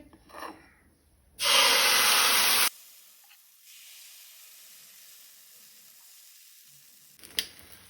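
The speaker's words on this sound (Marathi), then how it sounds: "हे आमी पीठ तयार करून घेतलां, ताजे पोळे घालपाक जाय।" Dill leaf dosa batter hits a hot griddle with a loud, close sizzle lasting just over a second. A softer hiss lingers faintly afterward, and a short rustle follows near the end.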